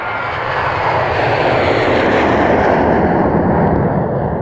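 A fixed-wing airplane roars overhead, a loud, steady broadband engine rush that swells slightly and holds throughout without any voices.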